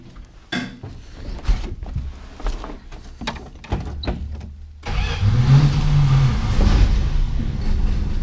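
A 1962 Plymouth Valiant, abandoned for over twenty years, cranks with uneven clattering bursts before catching, then settles into a loud, steady running engine drone close by.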